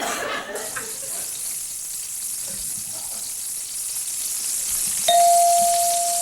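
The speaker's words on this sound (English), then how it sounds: "Deep fried Twinkies at the Puyallup Fair." Deep fried Twinkies sizzling in hot oil at the Puyallup Fair, a steady hissing fry that fills the clip, with a bright bell-like ding ringing out near the end and lingering.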